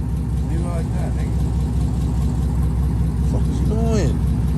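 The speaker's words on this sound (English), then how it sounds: "The exhaust system is on." Car engine idling with newly installed TSP headers exhaust, a steady low rumble throughout, with people talking nearby over it.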